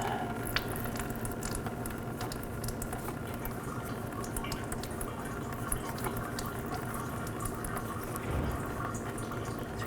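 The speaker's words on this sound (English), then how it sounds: "And let the oil drain into the bucket." Engine oil from a 2005-15 Nissan Xterra drains into a bucket during an oil cooler seal job, giving a steady, continuous trickling and splashing that runs unbroken for the whole stretch, with no voices.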